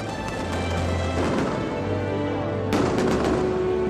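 Fireworks and strings of firecrackers set off by households greeting a dragon-lantern procession at a coastal village Lantern Festival parade: dense, continuous crackling bursts with a sharp louder blast near the end, close and loud throughout.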